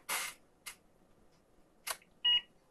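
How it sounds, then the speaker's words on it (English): A 1991 Packard Bell laptop powers on in a quiet room, with a few short clicking bursts followed by a single brief electronic beep. "There's a beep."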